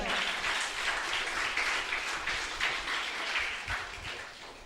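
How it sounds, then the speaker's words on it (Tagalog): Church congregation applauding together in a sustained, even wash of many hands clapping, steady and fairly loud throughout, tapering slightly near the end. "malakas na palakpak para kay Lord"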